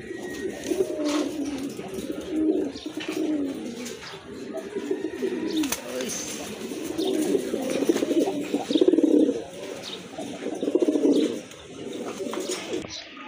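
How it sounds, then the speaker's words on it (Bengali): A pair of pigeons for sale coos close by in repeated rolling, throaty phrases that rise and fall over a faint background, with no talk over them. "খুবই সুন্দর কোয়ালিটি ফুল এক জোড়া কবুতর"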